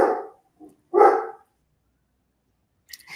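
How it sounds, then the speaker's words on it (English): A dog barks twice indoors, two loud, sharp barks about a second apart, then near silence with a faint brief sound at the end. "Sorry, my dog."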